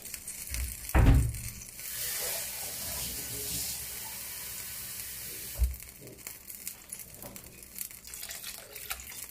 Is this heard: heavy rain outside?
no